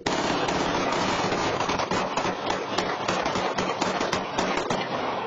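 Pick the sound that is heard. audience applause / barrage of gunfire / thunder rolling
barrage of gunfire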